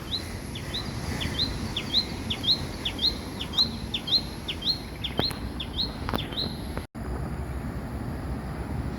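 Birds chirp beside a disused rail corridor between houses and condominiums, a repeated bright, rhythmic call sounding every half second or so over a steady outdoor hum, with a few sharper clicks and a brief dropout near the end.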